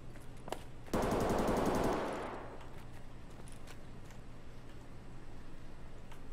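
In Escape from Tarkov, a single long burst of rapid automatic gunfire rattles for about a second, then trails off into a quiet, hollow background with faint distant noises.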